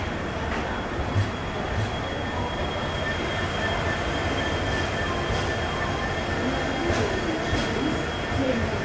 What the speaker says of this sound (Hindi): एक और कमाल का लोकोमोटिव यहाँ पे देखने को मिल रहा है